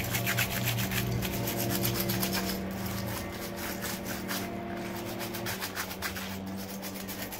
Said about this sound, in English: So you just go gently and rub it all over the necklace.